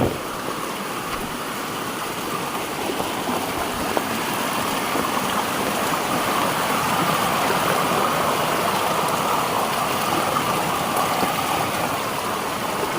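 Rain pours steadily beside a rushing stream in the Konkan during the first monsoon rain, a dense, even wash of water noise that stays loud and constant throughout.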